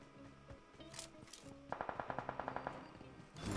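Rapid burst of about a dozen evenly spaced video-game gunshots from an automatic weapon in a battle-royale match with a sniper loadout, fairly loud and close, preceded by softer in-game clicks and tones, with no talking.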